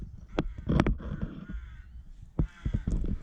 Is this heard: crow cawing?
yes